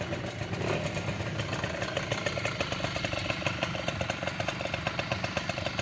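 Two-stroke Asiastar automatic scooter with electric starter idling steadily after starting, a close, rattly, buzzing putter with rapid regular ticking pulses throughout.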